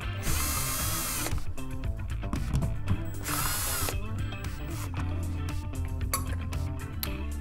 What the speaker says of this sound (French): enlever les vis